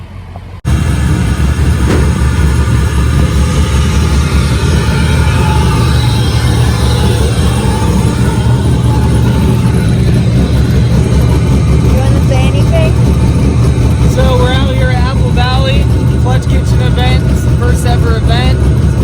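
A drift car's engine idles and warms up at a grassroots desert drifting event, with a loud, steady, rumbling drone that holds throughout after a brief quiet start.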